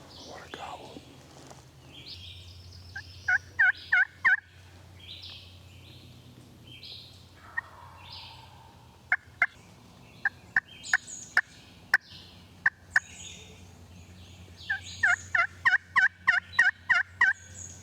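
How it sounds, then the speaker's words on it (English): Wild turkey gobbler in timbered ridge country sounds off in several rapid, rattling gobbles from a fair distance, with bursts separated by quiet woods, soft bird calls and low whispered talk nearby. "Well, that gobbler, he's answering me, but he's still pretty good ways off."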